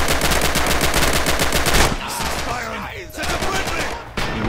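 Rapid machine gun bursts rattle loud and close in the video game Red Orchestra 2: Heroes of Stalingrad, a dense stream of shots that stops abruptly partway, leaving quieter game noise with a few shots and a voice faintly in the mix.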